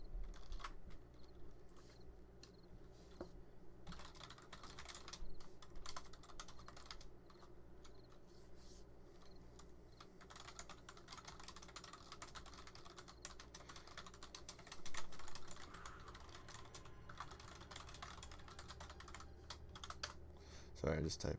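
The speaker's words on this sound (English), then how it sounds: "just typing that out really quickly" Quick bursts of typing on a computer keyboard: soft, close, rapid key clicks running throughout at low volume with a faint background hum.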